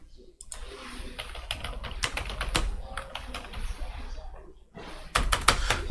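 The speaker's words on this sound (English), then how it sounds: "I'm typing in captcha so you guys can see what I type" Fingers tap out a captcha on a computer keyboard in quick irregular bursts of clicks, close and moderately loud, with a brief pause before a final flurry of keystrokes.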